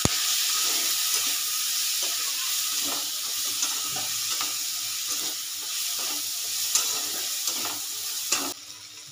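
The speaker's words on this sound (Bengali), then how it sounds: "একটু হলুদ দিয়ে দিলাম আন্দাজ মতন, দিয়ে নাড়াচাড়া করে নিচ্ছি" Spices with turmeric frying in a pan while being stirred: a steady close sizzle with repeated soft scraping strokes throughout, and no voices.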